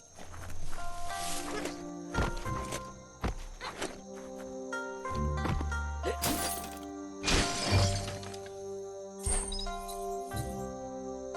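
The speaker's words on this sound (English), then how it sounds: "You shouldn't worry about smashing up the box." Wooden box in Biomutant being smashed: a series of sharp cracks and splintering impacts, irregularly spaced, mixed with heavy thumps and footsteps.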